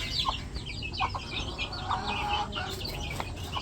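A group of hens pecking at rice and bran gives off repeated short, nearby clucks and chirps in irregular bursts over a low outdoor hum.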